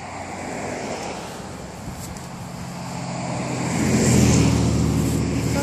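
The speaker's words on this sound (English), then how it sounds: "I hear another car coming." A single car approaching and passing along a rural road beside a farm, a steady swelling road rumble that grows louder toward the end, with faint wind and no voices.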